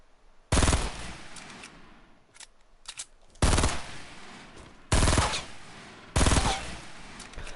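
A burst rifle in Fortnite fires four sharp, loud bursts of rapid shots spaced a second or two apart, with a few quieter single cracks between them.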